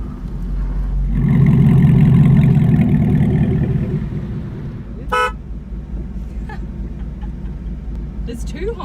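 Devel Sixteen supercar horn sounds a long, loud blast and later a short toot, close by over a low idling engine, with people talking between honks.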